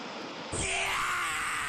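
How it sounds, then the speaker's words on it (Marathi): River water rushes strongly past, making a steady, loud broadband roar that swells a little after the first half second and stays constant, close and unbroken. "नदीचं पाणी एकदम जोरात वाहत आहे"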